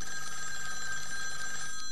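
A telephone rings indoors, its bell trilling steadily and fairly loud for a couple of seconds without a pause.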